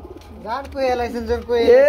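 At a pigeon market, caged pigeons coo close by in rising and falling throaty phrases that overlap and swell toward the end.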